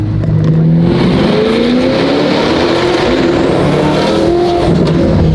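A car engine roars loud and close, revving and accelerating with rising and falling pitch sweeps over a constant heavy rumble, no talking.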